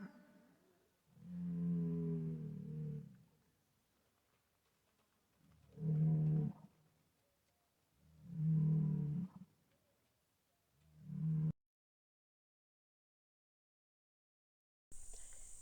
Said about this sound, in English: I mostly noticed them when the mooing got loud